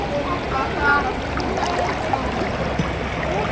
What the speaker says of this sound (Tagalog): Medyo malakas yung tubig niya eh